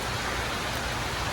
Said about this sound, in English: fortunately it rained.